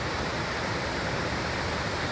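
Water flows steadily in an outdoor stream through woods with many fallen trees, making a loud, continuous broadband rush that stays even throughout.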